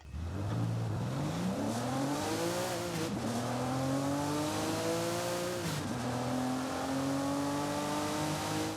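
A Porsche 911 Sport Classic engine in Forza Horizon 5 revs up through rising gears, pitch climbing, dipping briefly, then climbing again, loud and close.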